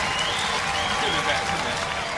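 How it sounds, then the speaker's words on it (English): Generous clapping from a studio audience at a Robot Wars pinball tournament, a short dense burst of applause at a steady level with a faint voice underneath. "Generous applause."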